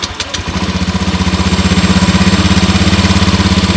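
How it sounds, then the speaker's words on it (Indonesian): A motorcycle being checked for overheating starts with a brief crank, then settles into a steady, loud, close idle with an even pulsing throb. "Sambil kita nyalakan ya motornya ya."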